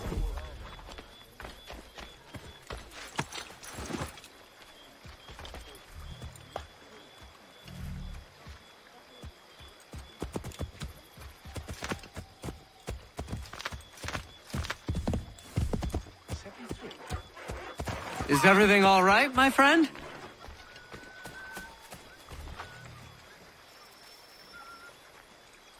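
Hooves clip-clop in Assassin's Creed 3, a horse walking and trotting in uneven bursts, with a loud whinny near the end, while characters talk over it.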